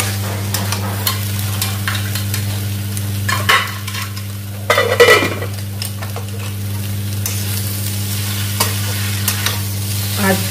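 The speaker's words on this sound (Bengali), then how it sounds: "ঢেলে দিয়ে নাড়বো।" Chopped raw jackfruit stirred into a sizzling spice masala in a pan, with steady frying hiss and scraping spatula strokes, one louder clatter midway, close and without talk.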